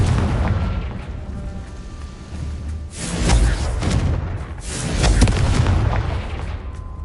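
Fiery Confringo blast spell exploding in a PS5 magic-school adventure game: two heavy booming bursts a couple of seconds apart, rising over a constant low rumble of game ambience.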